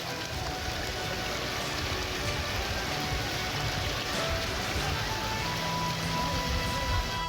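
Heavy rain falls steadily during flooding, a dense, even hiss of drops on surfaces that holds at the same level throughout with no voices.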